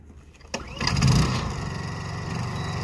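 A sharp click followed by a generator engine on a beekeeping honey-extraction cart revving up under electrical load and settling into a steady running drone, nearby and moderately loud.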